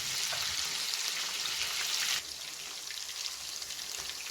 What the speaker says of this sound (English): Now we have fried one side of our fish, and we have inverted the next side, and next side is been fried up.